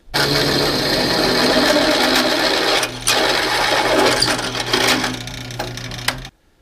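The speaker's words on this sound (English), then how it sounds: "Then drill and slot the 3-inch wide by 1/4-inch thick side pieces." Loud, continuous drilling of 1/4-inch-thick steel side pieces with a grinding, rattling whine, briefly easing around the midpoint before resuming and then stopping abruptly.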